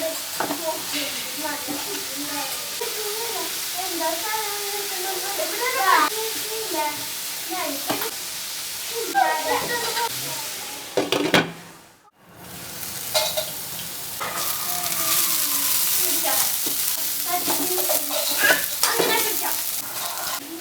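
Carrot for Kerala-style thoran frying in a pan: a continuous close sizzle and hiss with intermittent spatula stirring scrapes, briefly dropping away near the middle before the loud sizzle returns.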